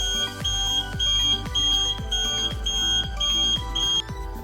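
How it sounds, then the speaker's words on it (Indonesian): A full Arduino UNO smart trash bin sounds its electronic alarm, a rapid series of about eight sharp, evenly spaced beeping bursts, loud and close with no talking. "ketika kapasitas tong sampah penuh, maka tong sampah akan membunyikan alarm"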